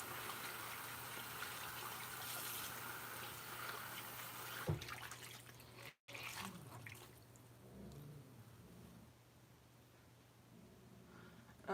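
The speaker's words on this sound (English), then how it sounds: "I'm going to dampen that with some warm water." Warm water running from a tap to dampen a rag, a quiet steady stream that cuts off briefly and then resumes more softly.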